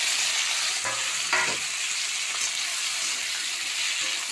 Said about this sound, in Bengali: আলু টমেটো পেঁয়াজ আমি একসঙ্গে ভেজে নেবো